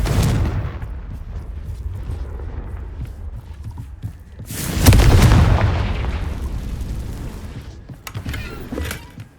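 Bombarda and Confringo explosion spells cast in a Hogwarts video game: a large booming blast bursts out midway, loud and rumbling, then decays, with softer crackles and thuds around it.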